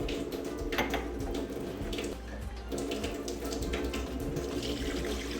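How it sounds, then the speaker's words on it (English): Water running from a tap into a cooking pot of spaghetti noodles and chicken, a continuous splashing, gurgling pour heard close up and steady throughout. "I'm gonna add about 2 more cups of water."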